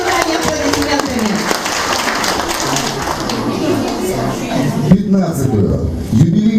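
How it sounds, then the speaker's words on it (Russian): Audience applause at a culinary and confectionery exhibition, a steady wash of clapping from a large crowd lasting throughout, with voices and chatter mixed in and a few louder bursts near the end. "Поддержите ее бурное начинание аплодисментами."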